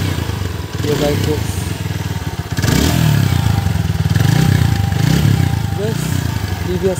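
Close, loud running of a TVS Apache RTR 160 4V motorcycle with 45,000 km on it, a deep, bass-heavy engine note held steady with slight rises in revs throughout.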